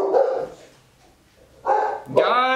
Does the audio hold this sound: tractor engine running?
no